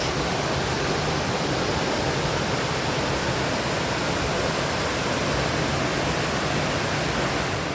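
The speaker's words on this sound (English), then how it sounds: "it really shows how this waterfall cuts right through this gorge." Lucifer Falls pouring through a rocky gorge in New York State, a broad, steady roar of rushing water with no variation, heard from a side overlook and filling the whole scene.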